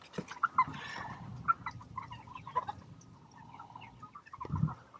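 Chickens cluck and murmur on a farm, scattered close calls rising and falling over a soft background, ending with a louder, lower burst of sound.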